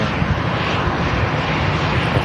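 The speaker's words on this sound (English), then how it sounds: "Or an EasyJet in front of us, just taxiing by." An EasyJet airliner taxiing at Manchester Airport, a loud continuous broadband jet engine roar that stays steady throughout.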